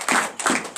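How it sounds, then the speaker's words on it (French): A church congregation at a deliverance and prophecy night claps in acclamation, with sharp rhythmic hand claps coming in a few close bursts and no talking. "Donnez l'acclamation."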